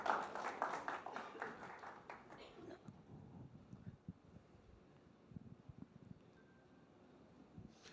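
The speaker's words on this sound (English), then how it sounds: "round of applause once again" An audience claps at a Galaxy Tab 3 product launch event, a loud burst of applause over the first few seconds that fades into a quiet room with scattered faint taps and soft murmurs.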